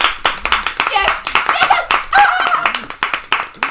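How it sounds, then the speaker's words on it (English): A lively round of applause for a guest on a podcast, with several people clapping in quick bursts close to the mic, under overlapping talk and cheers. "let's grab a special round of applause for our guest"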